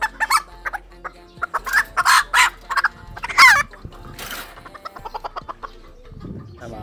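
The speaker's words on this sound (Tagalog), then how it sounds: "lalagay muna natin ito mga manok natin doon sa labas" Old English Bantam chickens cluck and squawk nearby in a series of sharp, uneven bursts, with quieter pecking-like ticks between calls.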